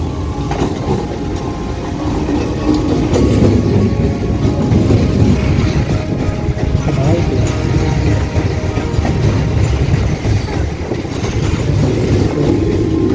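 A passenger train running on rails, a loud, steady rumble with rhythmic wheel clatter heard close up throughout.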